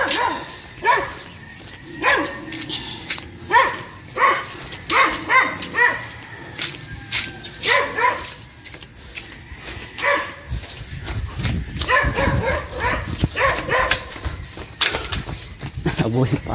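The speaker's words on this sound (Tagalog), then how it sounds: "Alagang aso." A pet dog barks repeatedly on a shaded jogging path under trees, loud sharp barks in irregular bursts, then a rougher hissing noise takes over near the end.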